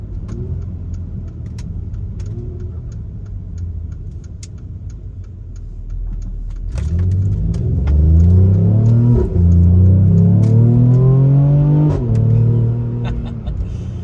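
A Mercedes-AMG GLE 43 SUV engine idles low, then roars into hard acceleration in Sport Plus mode with rising revs and quick gear shifts, loud and close, easing off near the end.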